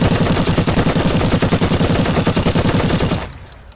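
Rapid automatic gunfire from a first-person video game, a loud, steady burst of evenly spaced shots lasting about three seconds before cutting off abruptly.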